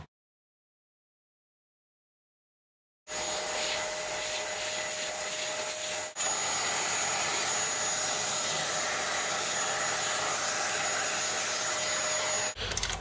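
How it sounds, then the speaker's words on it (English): A vacuum cleaner starts up and runs steadily with a loud, even whine while cleaning dust out of an Acorn A440/1 Archimedes computer, with a brief dip midway and a change in tone at the end. "I'm going to vacuum this up next"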